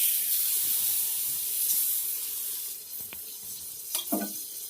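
A besan flatbread roasts in butter on a hot pan with a soft, continuous sizzling hiss, punctuated near the end by a few brief spatula scrapes and taps.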